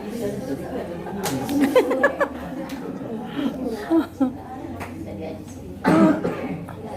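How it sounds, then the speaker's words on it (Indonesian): Several rough coughs break out between stretches of muffled talk, with one loud, harsh cough near the end. "Maaf kalau batuk"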